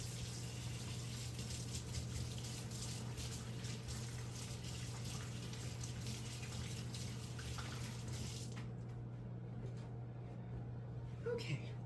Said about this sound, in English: quick wash my hands once again.